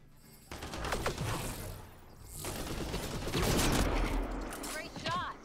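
Gunfire bursts from Mass Effect Andromeda ring out in a firefight against outlaws, dense and loud with rapid shots layered over game ambience, while voices talk at times through the clip.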